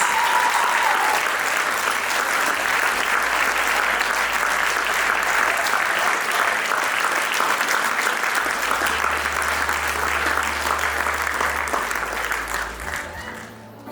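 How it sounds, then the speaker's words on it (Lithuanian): An audience at the Gargždai children's choir Klevelis 30th anniversary concert claps for the teachers in a loud, sustained round of applause that fades away at the end. "Negailėkime plojimų visiems mūsų mokytojams."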